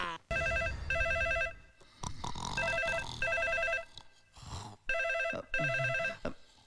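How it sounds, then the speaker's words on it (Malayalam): Classic telephone bell rings in repeated double bursts, loud and close, in a Malayalam police-station comedy scene, with brief pauses between rings and a voice speaking in the gaps. "ഫോൺ"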